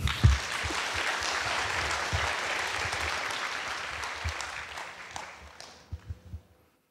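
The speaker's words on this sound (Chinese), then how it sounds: "掌声嘞！" Applause from the crowd at a security conference fills the room with dense, sustained clapping that fades toward the end, leaving a few last scattered claps.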